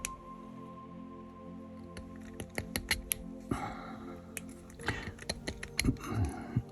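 A scraping blade cuts fine lines into moose antler, producing soft, close-up scratches and small clicks in short irregular strokes over a quiet background.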